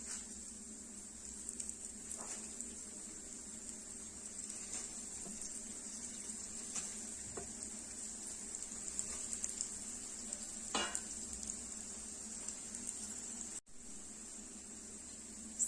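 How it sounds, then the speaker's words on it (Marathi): Aloo tikki potato patties shallow fry in hot oil in a pan, giving a faint, steady sizzle with a few soft utensil scrapes and taps, quiet and close with no voices. "आपण डीप फ्राय न करता शालो फ्राय करणार आहोत मस्त सर्व टिक्के आपण इथे शालो फ्राय करून घेणार आहोत"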